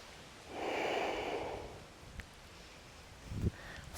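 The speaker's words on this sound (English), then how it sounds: "Breathe in, breathe out." Slow breathing during a yoga exercise, one long audible exhale through the mouth followed by a quieter breath, close and soft with no talk.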